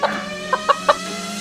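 A cartoon chicken clucks in a few short, clear bursts, close and alone over a quiet background.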